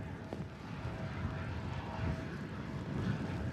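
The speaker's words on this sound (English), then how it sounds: "Air France hop coming in from Paris." Air France HOP airliner landing at Manchester Airport from Paris in stormy, windy conditions, a steady low engine roar mixed with wind rumble, continuous and moderately loud throughout.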